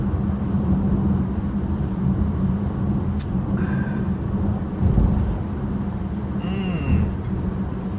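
Steady low rumble of road and engine noise inside a moving car at night with the dome light on, a constant droning hum with a few faint clicks and creaks, no talking.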